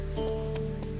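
Hooves of Roach, Geralt's horse in the video game The Witcher 3: Wild Hunt, clop in a quick galloping rhythm, close and steady beneath a continuous tonal music bed.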